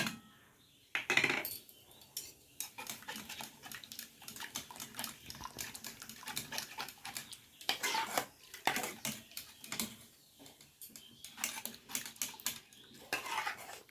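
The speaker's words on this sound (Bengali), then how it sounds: "এবার কর্নফ্লাওয়ার আর গুঁড়ো দুধ দিয়ে ভালো করে মিশিয়ে নেবো" A spoon stirs cornflour and milk powder into boiled milk for malai kulfi: repeated light clinks and scrapes against the pot, irregular and fairly close, with soft liquid swishing between them.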